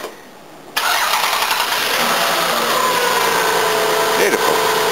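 Toyota Camry XV20 V6 engine cranking and firing up on a new battery, then settling into a steady, loud, close idle with a faint brief rev near the end.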